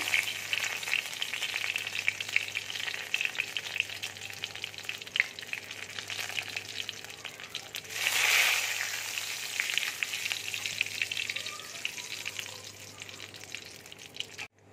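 Bay leaves and whole garam masala sizzle and crackle steadily in hot oil, a close, continuous frying hiss with a brief louder burst of spattering partway through before settling back to an even sizzle.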